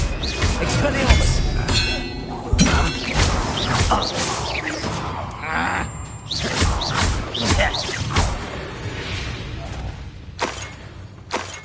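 Expelliarmus disarming spell in Hogwarts Legacy combat, sharp whooshing casts and crashing impacts scattered among clinks and thuds at moderate loudness, with a voice shouting during the fight.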